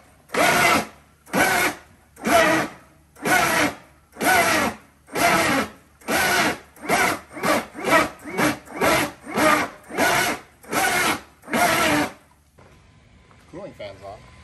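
Castle Creations XLX2 electric motor fitted to a 2x4, run in repeated full-throttle bursts: about fourteen loud whining roars, each a second or so long, separated by brief pauses, with the bursts quickening mid-sequence before a quieter tail.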